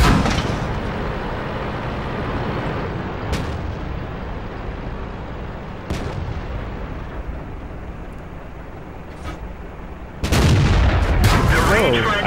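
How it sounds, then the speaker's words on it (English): A Ferdinand tank fires in World of Tanks: a sharp, loud gun blast cuts through steady engine rumble and battle noise near the end, after several fainter distant booms. "Here's a Ferdinand. And a Ferdinand takes a shot."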